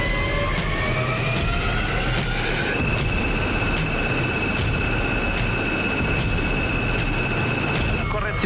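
An AgustaWestland AW139 helicopter runs its rotor during a tail-rotor vibration test, making a loud, continuous turbine whine with steady tonal hums over a dense rumble, close and constant throughout.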